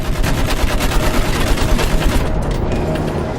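Rapid machine gun fire in the World War I shooter Battlefield 1 rattles in a dense, loud, continuous burst of shots for the whole stretch, thinning slightly toward the end.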